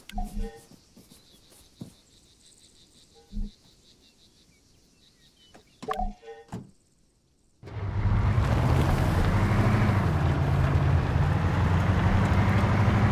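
In the Arma 3 game, a few sparse clicks and thumps give way to a sudden, loud vehicle engine that then drones steadily and close, with a low rumble that shifts slightly as it drives.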